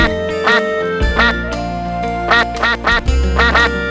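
Cartoon ducks on a palace pond give a run of loud, bright quacks in quick clusters, set over a sustained musical backdrop.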